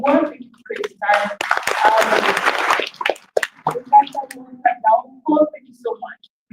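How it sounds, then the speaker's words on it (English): An audience at a town hall meeting on gender-based violence in higher learning institutions applauds its panelists. The clapping swells for a couple of seconds, then fades as a voice resumes speaking. "let's just give a round of applause for panelists"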